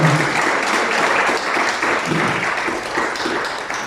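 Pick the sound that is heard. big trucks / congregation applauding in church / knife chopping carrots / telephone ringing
congregation applauding in church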